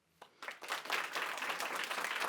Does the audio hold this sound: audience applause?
yes